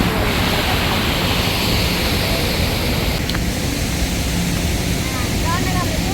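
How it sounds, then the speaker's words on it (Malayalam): Heavy rain pouring down in a forest near a hut, a dense, loud, continuous roar of falling water close by; a voice talks over it. "മഴയാണ് ഗൈസ്, മഴ പെരുമഴ."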